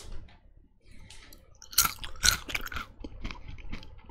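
Baked carrot chips are crunched close up, with a run of crisp bites and chewing crackles, several sharp crunches standing out, and no talking.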